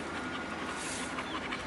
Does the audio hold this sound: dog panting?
yes